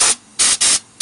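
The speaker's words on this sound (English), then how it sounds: "And finally, fluid film. Spray, sprit." Fluid Film sprays from an aerosol can in three short, loud hissing bursts close to the mic, with quiet gaps between them and a fourth burst starting at the end.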